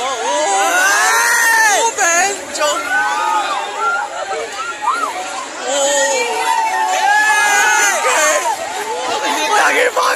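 A packed crowd at a village temple fair for the Dadi Sati temple in Dujana fills the air with loud, close chatter, shouts and children's voices, steady throughout with a speaker talking among them.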